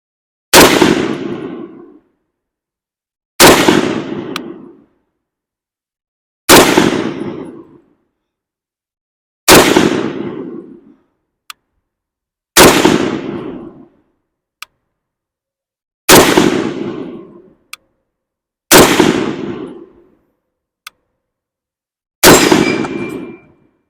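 Eight loud rifle shots fired from a supported position with a USGI web sling, each a sharp crack followed by a decaying echo, spaced about three seconds apart, with faint clicks of handling between shots and no talk.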